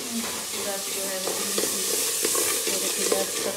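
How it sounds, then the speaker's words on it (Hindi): Tadka spices sizzling and frying in hot oil in a home kitchen, a steady close crackling hiss with stirring scrapes throughout, no talk over it. "तड़का जो है लग चुका है।"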